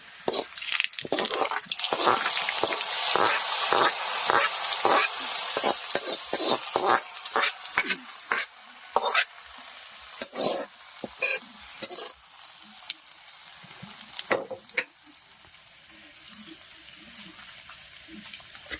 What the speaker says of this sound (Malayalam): അപ്പൊ നമ്മുടെ കടുക് പൊട്ടിച്ചതാണ് നല്ല പോലെ മൂത്തിടുന്നത്.